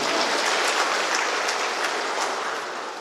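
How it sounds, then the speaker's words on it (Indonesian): Applause fills a church Easter service in Yahukimo, a dense, steady clapping from a large congregation that carries on loudly throughout and eases only slightly at the end. "Tepuk tangan untuk Yesus."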